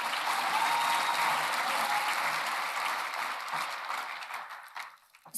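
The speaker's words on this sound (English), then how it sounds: "Let's hear a round of applause for him." Audience applause at the Absa Jewish Achiever Awards 2024 gala: a dense, sustained wash of clapping from a large crowd that gradually thins and fades toward the end, heard alone without speech.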